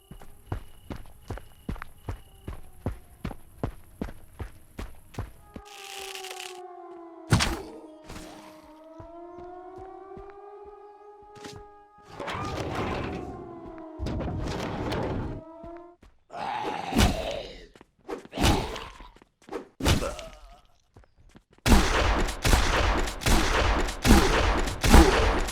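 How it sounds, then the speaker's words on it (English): Footsteps and gunfire from the zombie shooter game Zompiercer: steady rhythmic footfalls open, followed by sharp gunshots, wavering siren-like groans and bursts of loud noisy shooting toward the end, with no talking. "If I increased the audio because the footsteps was too low, then shooting zombies was becoming extremely loud."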